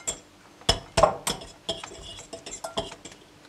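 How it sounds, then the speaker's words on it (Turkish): Separated egg yolks are whisked in a bowl, a series of light, irregular metallic clinks and taps that are quiet and close, with no voices. "Ayırdığım yumurtanın sarısını çırpıyorum."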